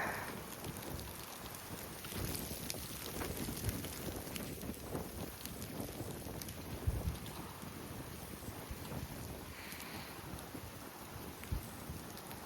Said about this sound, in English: It's still a bit windy outside.